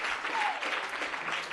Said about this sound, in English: Let's clap with the energy and psych.